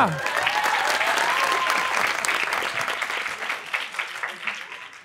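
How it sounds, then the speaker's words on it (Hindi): A studio audience applauds on a Pakistani television talk show, a dense, loud burst of clapping that gradually thins and fades, with a voice briefly audible at the start. "आइए बनाते हैं तालियां जी तालियां गिरना चाहिए"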